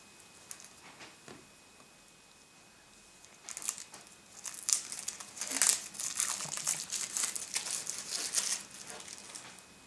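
Wrapped packs of game cards torn open by hand, with faint scattered rustles at first, then a dense run of close, crisp plastic crinkling and crackling that rises and falls through the second half.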